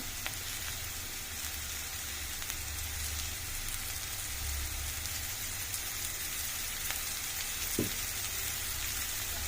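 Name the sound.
bitter gourd frying in oil in a pan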